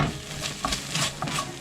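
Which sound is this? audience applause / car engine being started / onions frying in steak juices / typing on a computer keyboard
onions frying in steak juices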